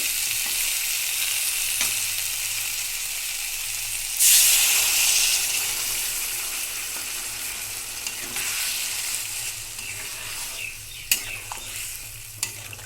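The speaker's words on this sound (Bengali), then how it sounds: "ভালোভাবে কষানো হয়ে গেছে, এবার আমি জল দিয়ে দিব।" A burst of loud sizzling and steam as water hits sautéed potato and pointed gourd curry in a pan, then a steady crackling simmer with occasional stirring clinks, no voices.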